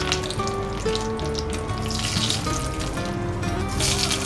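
Bay leaf frying in hot oil with radhuni seeds for a khichuri, giving a dense, close, continuous crackling sizzle with faint scraping over the short stretch, with no voices.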